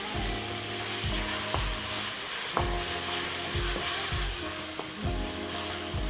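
Tomato puree sautéed in a pan for Kerala chicken masala fry, a steady close sizzle under repeated rhythmic scraping and knocking of the spatula against the pan.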